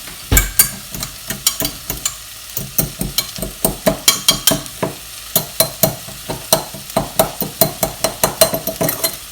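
A fork clinks and scrapes rapidly against the inside of a jug, crushing a beef stock cube, a steady stream of sharp taps and rattles as it is crushed and stirred.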